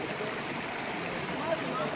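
A stream near Valasa waterfalls makes a steady, low rushing sound that stays fairly quiet and even throughout.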